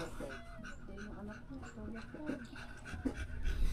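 A dog pants in rapid, steady breaths nearby, with a few soft whimpers and a person talking quietly underneath.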